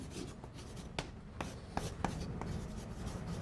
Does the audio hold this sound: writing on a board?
yes